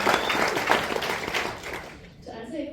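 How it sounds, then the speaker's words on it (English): An audience applauds for composer Jack Broadbent at a Sundance Film Festival screening: steady, dense clapping fills the room for about two seconds, then thins out and fades. "applause for him as well"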